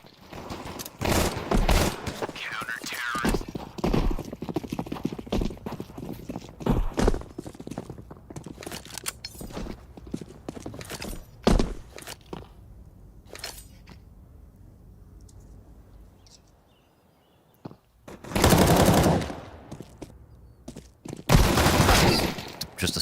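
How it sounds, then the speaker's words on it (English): In a Counter-Strike match, Glock pistols fire in a duel on A ramp: sharp shots crack out in irregular bursts, with footsteps and quieter stretches between volleys and a final loud flurry near the end. "Just a straight-up pistol duel on A ramp"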